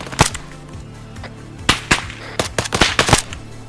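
Gunfire in the military game Arma 3, sharp close shots at the start followed by a quick cluster of rapid cracks and bursts near the end, loud and punchy against a low background hum.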